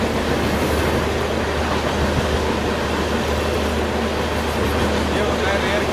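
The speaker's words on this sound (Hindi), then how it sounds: "यहाँ पे तेजस राजधानी वापस ओवरटेक कर रही है।" Tejas Rajdhani express train overtaking on a parallel track, heard as a steady, loud rumble of wheels and carriages running continuously throughout, with a voice talking over it.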